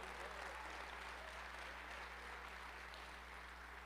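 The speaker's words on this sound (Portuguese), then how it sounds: "Pode aplaudir o Senhor." A congregation applauds the Lord during a sermon, a faint, steady wash of many hands clapping heard from a distance over a constant low electrical hum.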